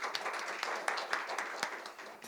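Audience applause at a Korean science and technology policy forum, a light, fairly sparse patter of clapping with a few louder individual claps, heard at moderate distance.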